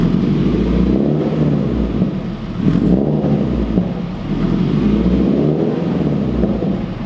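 Subaru BRZ engine with a center-exit exhaust revving close by, a loud, deep, rumbling drone that swells and dips with the throttle throughout, with no talk over it.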